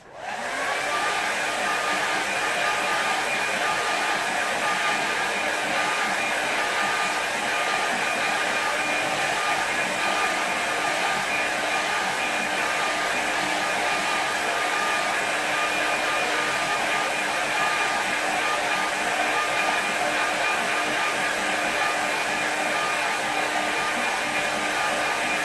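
A hair dryer blows on a flooded-fields watercolour painting to dry it, running loud and steady at close range without a break for about twenty-five seconds, with no talking.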